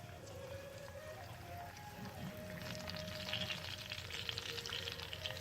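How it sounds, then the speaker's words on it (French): Oil sizzles in a pan as fish pieces fry with pepper seasoning. The crackle is steady and close and thickens into a brighter, busier hiss partway through, with no talking over it. "On entend pétiller l'huile."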